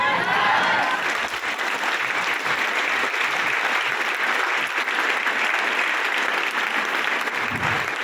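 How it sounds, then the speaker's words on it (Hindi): Steady audience applause from a crowd at a Hindi-language talk, a dense, continuous wash of many hands clapping that holds evenly for about eight seconds. "ताली जब भी बजाना तो ईमानदारी से बजाना"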